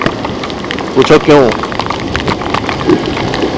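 Rain falls in Chandigarh as a steady hiss under someone speaking loudly in Hindi close by.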